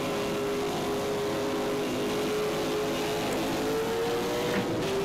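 A boosted Ford Mustang racing on the Goiânia circuit in Automobilista 2 with an H-pattern gearbox, its engine holding a steady loud drone with a slowly shifting pitch over a constant rumbling roar.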